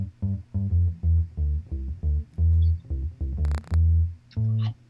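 Distorted, amp-driven bass built from layered signals on a record plays a loud, steady run of thick repeating notes, with a brief noisy burst near the end.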